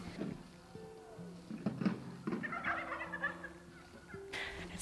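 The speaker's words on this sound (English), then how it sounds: "It sounds like the turkeys are conversating with the wild geese." Several turkeys gobble in rapid, overlapping bursts, fairly close, with warbling calls rising and falling over a quiet outdoor background near a greenhouse, wild geese nearby.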